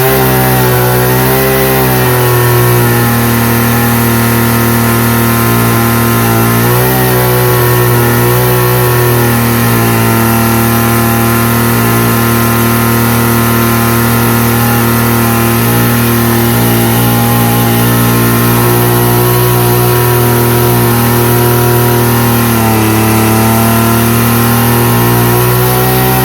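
A Stihl FS45 string trimmer with a weak fuel pump runs loud and close for the whole stretch, its two-stroke engine droning steadily with small rises and dips in speed and no pauses.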